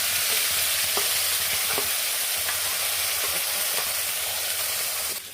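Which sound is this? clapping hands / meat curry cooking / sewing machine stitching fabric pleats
meat curry cooking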